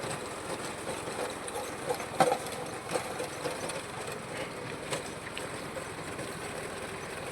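A tractor with a rotavator tills thick grass between tall, brittle drumstick trees in an orchard. A faint, distant engine drone runs throughout, broken by scattered soft knocks and clunks, with no voices.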